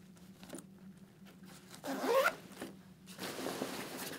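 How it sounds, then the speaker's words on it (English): A zipper runs down on an Alpinestars GP Tech V2 motorcycle track jacket, a quick, close rasping pull of about half a second, with soft handling rustle of the jacket around it. "Zip that down."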